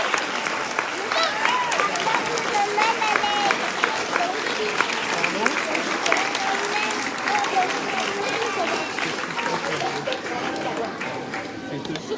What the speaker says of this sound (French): On peut encore faire un tonnerre d'applaudissements à Manon.